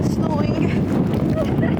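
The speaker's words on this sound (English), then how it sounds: "it's fucking snowing on the Cliffs of Moher and it's so windy" Strong wind buffets the microphone in a snowstorm at the Cliffs of Moher, a loud continuous roar and rumble filling the whole short stretch.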